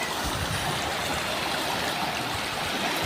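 Rushing stream water where people crossed, a steady broadband wash of fast-flowing current, close and continuous for the whole stretch with no voices.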